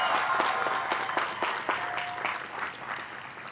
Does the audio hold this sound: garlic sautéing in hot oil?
no